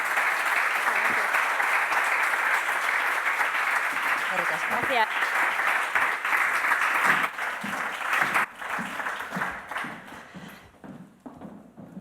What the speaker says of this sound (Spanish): Vamos a darles un aplauso y despedimos la mesa.